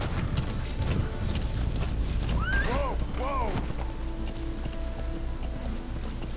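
Horse hooves clip-clop in a steady rhythm during a ride in the video game Metal Gear Solid V, with a short neigh and game music layered over the dense background.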